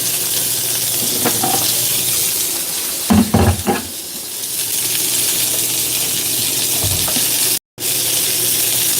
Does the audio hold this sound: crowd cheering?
no